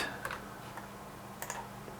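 Faint, evenly spaced metronome clicks tick along at 170 bpm in 6/8 over a low hum, with no other sounds.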